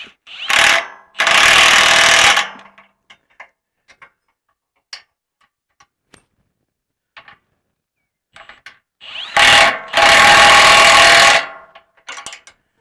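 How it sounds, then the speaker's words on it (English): An impact wrench tightens steering brace bolts on a third-generation Cummins truck, loud hammering bursts close by, two sets of short rattling pulses separated by quiet clicks and tool handling. "you can reach a open-ended wrench and just use a impact to tighten them up"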